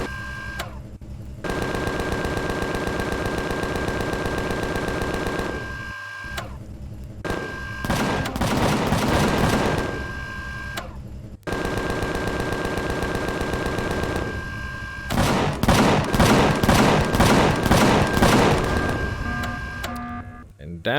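Cannons firing at drones in the space survival game Empyrion Galactic Survival: two long bursts of rapid, loud, repetitive gunfire, each with a sustained mechanical drone, separated by brief pauses.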